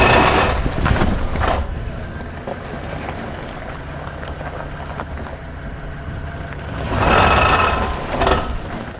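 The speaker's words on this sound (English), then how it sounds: "So as you can hear from this video, there's something seriously wrong with the front end of this 2012 Chevy Silverado." A 2012 Chevy Silverado with a faulty front end, driven in four-wheel drive, gives off a continuous rough rumbling drone with grinding noise, swelling louder in two bursts near the start and again toward the end.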